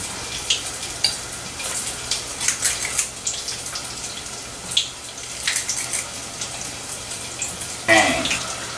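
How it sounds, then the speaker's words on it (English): Food fries in a deep fryer with a continuous bubbling sizzle and scattered crackles, close and fairly loud, ending in a sharper burst of spattering. "I love the sound of the fryer."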